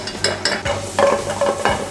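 Garlic sautéing in hot oil in a pan for palabok, with a steady broadband sizzle and a few soft scraping stirs, close and fairly loud.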